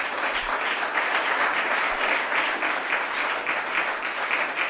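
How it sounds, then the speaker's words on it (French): An audience at a press conference applauds club members present for the evening, producing sustained, fairly loud and uniform clapping that fills the whole stretch. "Je vous demande de les applaudir."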